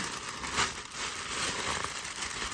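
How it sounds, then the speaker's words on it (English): A large plastic shopping bag from a Daiso haul is crinkled and pulled away, giving a steady close rustling that runs throughout with no talk. "So let's remove this plastic bag."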